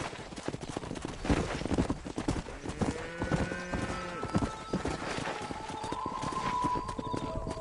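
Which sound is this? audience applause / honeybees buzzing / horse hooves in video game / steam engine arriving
horse hooves in video game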